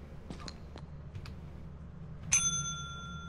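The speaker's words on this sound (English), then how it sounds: "Go ahead, ring the bell, meet the boss." A counter bell in the game Lethal Company rings once with a bright, sustained metallic ding after a few faint clicks, standing clearly above a quiet low background hum.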